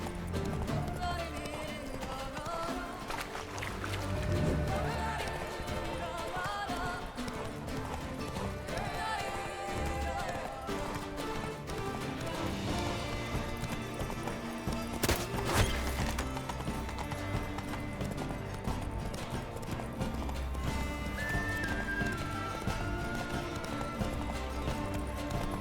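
A horse gallops in The Witcher 3: Wild Hunt, with steady rhythmic hoofbeats running continuously beneath dense game music and ambience at a constant level throughout.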